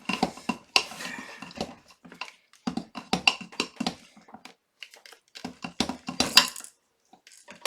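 Hot process oatmeal honey milk soap is stirred in a crock pot, producing irregular clinks and scraping knocks of a utensil against the pot, close and sharp with short pauses between bursts.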